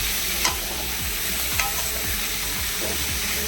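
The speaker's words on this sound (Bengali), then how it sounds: "ভালো করে ভাজতে হবে।" Cauliflower leaves frying in oil for a Bengali vorta, a constant crackling sizzle with regular scraping stirs of a spatula across the pan, close and steady, no talk.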